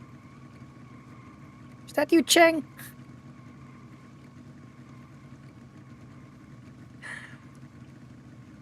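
A race car engine in the Forza Horizon racing game drones at a steady, low idle, with brief voices speaking over it.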